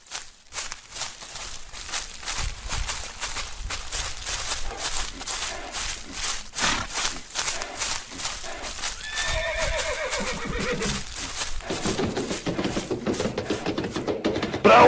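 Horses in a Western-style setting neigh and whinny repeatedly over steady clip-clop hoofbeats, moderately loud and close, with no talking.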